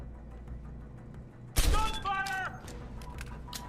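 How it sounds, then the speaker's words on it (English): A sudden burst of gunfire erupts mid-clip in the video game Deus Ex: Human Revolution, loud and close, followed by metallic ringing tones fading out over a low background hum. "Gunfire!"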